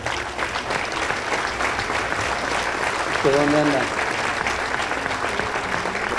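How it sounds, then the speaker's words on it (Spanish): An audience at a national political gathering claps in a sustained wash of applause, steady and fairly loud throughout, with a brief spoken question from a man cutting through near the middle. "También pido para ella un aplauso."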